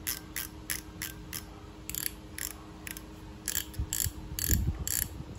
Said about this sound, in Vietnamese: đây là tiếng lưỡi gà của máy nhé